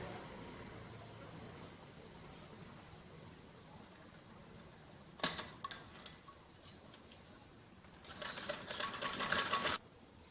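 A sewing machine stitches around the edges of jacket frock fabric pieces, one short burst and then a longer run of fast ticking stitches, faint and close over a steady room hiss.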